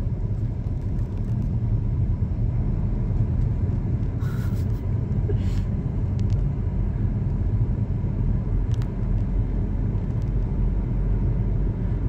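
A Hyundai Aura car with 25,000 km on it drives along at night, its steady low engine and road rumble filling the cabin continuously and fairly loudly, with a few faint clicks on top.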